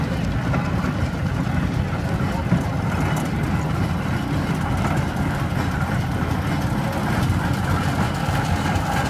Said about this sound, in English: Now we have a little Wallace traction engine.